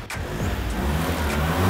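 Fiat Multipla car engine running at a technical inspection station, a brief moderately loud engine rumble with no talk.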